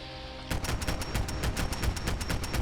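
Unsuppressed M3 Grease Gun submachine gun from Fallout 4 fires in a sustained, rapid burst of loud, close shots that starts abruptly after a brief lull and continues steadily to the end.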